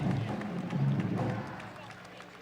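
Clapping from an audience honoring Rowlett High School student athletes on National Signing Day, a dense burst of hand claps and murmuring that swells then tapers off over a couple of seconds.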